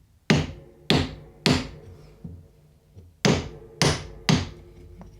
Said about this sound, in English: I'm using a hammer and a little block of wood.